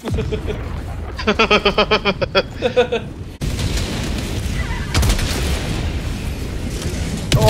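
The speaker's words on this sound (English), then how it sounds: "I got hit in the face with a fucking rocket" A rocket explosion in the Helldivers 2 video game hits with a sudden loud blast. It follows a stretch of rapid rhythmic gunfire and leaves a dense roar of battle noise that continues afterward.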